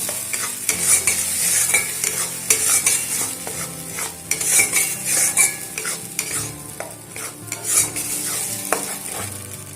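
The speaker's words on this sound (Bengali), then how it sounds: "এবারে অনবরত নাড়াচাড়া করে বেশ কিছুক্ষণ ধরে এটাকে নাড়াচাড়া করব।" Bean paste frying in a pan over a village kitchen fire, stirred continuously with a spatula: steady scraping and sizzling with frequent clinks against the metal, loud and close, no talk.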